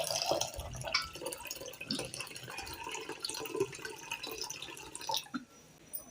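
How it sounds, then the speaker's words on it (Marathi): Water is poured into coconut milk with kokum for a solkadhi, giving a soft, continuous trickle and splash close by that ends abruptly. "आता याच्यात आपण पाणी घालूया"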